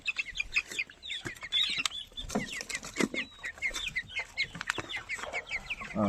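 Young month-old tiger chickens on a poultry farm cluck and chatter continuously, many birds overlapping close by with occasional wing flaps, no talking.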